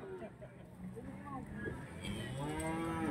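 Simmental cattle lowing at an Indonesian livestock market, with several drawn-out moos rising over one another amid crowd chatter and people talking nearby.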